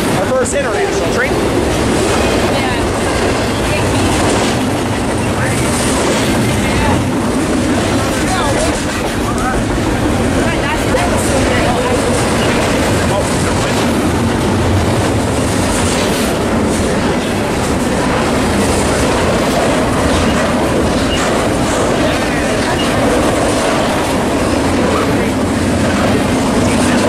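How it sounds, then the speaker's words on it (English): An international freight train rolls through Fullerton Station, a loud, steady rumble with rail clatter that lasts the whole stretch, while voices and cheers from people nearby break in now and then. "Our first international train."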